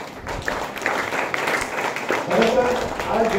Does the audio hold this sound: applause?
yes